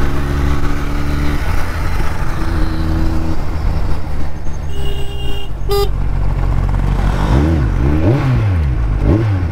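A Kawasaki Ninja 1000SX being ridden while other traffic honks nearby: steady engine drone with a horn blast early on, a brief high chirp midway, then rising and falling revs near the end.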